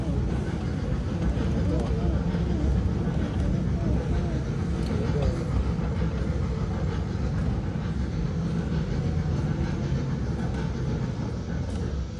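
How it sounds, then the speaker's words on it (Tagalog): Train riding on rails, a steady low rumble and rolling hum from inside the carriage, continuous and even, with faint voices talking underneath. "take a video of the train"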